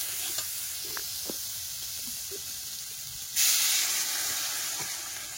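Vegetable curry simmers and sizzles in a pan after water is added, a steady close hiss with small bubbling pops, rising into a louder steam burst partway through.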